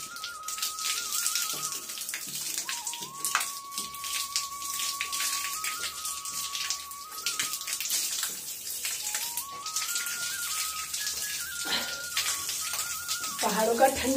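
Cold mountain spring water pouring from a stone spout, a continuous bright splashing flow under a woman's speech, with a clear melodic bird-like whistle running through.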